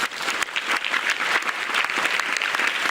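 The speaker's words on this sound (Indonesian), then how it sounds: "Tepuk tangan." An audience at an Indonesian religious lecture gives dense, sustained applause for about three seconds, with many hands clapping together at a steady, moderately loud level.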